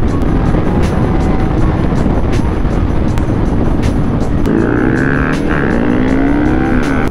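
A group of seven motorcycles riding together, a loud steady engine roar with one engine's pitch rising and rising again partway through, with no voices.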